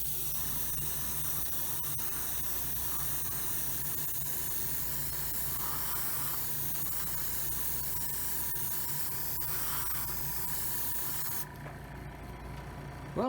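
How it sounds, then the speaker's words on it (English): Steady, continuous aerosol spray of white base coat paint on a model, hissing for several seconds close up, with faint rubbing sounds, ending abruptly near the finish. "it's time to spray our white base coat."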